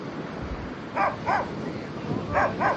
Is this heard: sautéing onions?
no